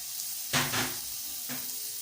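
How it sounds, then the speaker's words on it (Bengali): Chopped onion, tomato and green beans sizzling in hot oil in a frying pan, a steady hiss with two brief louder crackles as the vegetables hit the pan and are stirred. "এখন এটার মধ্যে আমি দিয়ে দিব পেঁয়াজ কুচি, টমেটো কুচি,"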